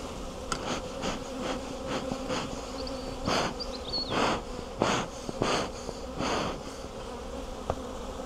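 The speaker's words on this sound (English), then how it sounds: "And the bees are very unhappy." Agitated honey bees hum around an open hive under inspection, a constant buzz broken by several short, breathy bursts that swell and fade up close.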